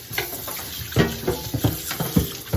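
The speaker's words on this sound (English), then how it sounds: "make sure you rinse it really well" GE UltraFresh dryer lint filter rinsed under running tap water, a steady close splash and patter with uneven bursts as the mesh is moved through the stream.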